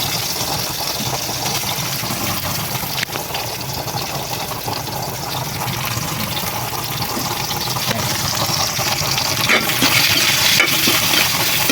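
Bitter gourd (ampalaya) sautés in hot oil in a pan on an oil-fuelled stove, with a loud, steady, close sizzle and crackle that holds throughout and no voices.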